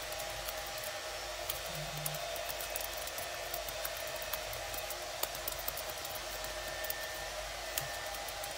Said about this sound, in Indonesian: sekarang bunyi hair dryer